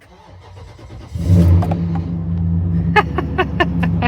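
An engine with 123,070 miles on it, an LS-swap alternative, cranks and fires for its first start, settling into a loud, steady rumbling idle with sharp revving blips near the end.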